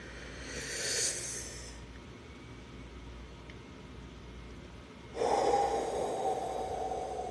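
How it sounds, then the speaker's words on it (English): A person breathing deliberately for a calming exercise: a deep airy inhale, a quiet pause, then a long hissing exhale through the mouth, close and soft with no talking. "We're going to take a deep inhale and a long exhale"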